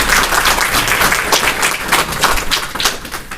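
An audience at a spiritual gathering applauds steadily, a dense wash of many hands clapping close and loud for the whole stretch with no voices over it.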